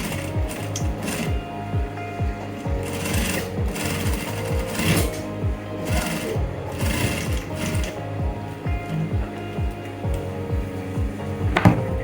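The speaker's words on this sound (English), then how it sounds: "we're going to sew it down" Close and loud, a sewing machine stitches down a trouser front pocket, its needle hammering a fast steady rhythm throughout without a break, with no talking.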